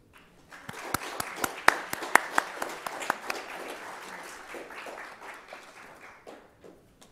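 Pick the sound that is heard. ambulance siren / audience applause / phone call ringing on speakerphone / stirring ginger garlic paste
audience applause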